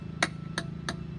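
A hammer taps a nail into a metal can to punch a small hole: four light, evenly spaced metallic knocks, close and fairly quiet, with no talk.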